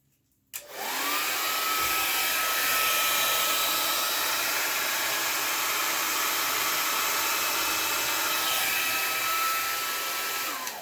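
Air is blown steadily over thick acrylic paint to spread a design for a Dutch pour, a loud continuous close-up hiss like a hair dryer running for about ten seconds without a break, with no talk.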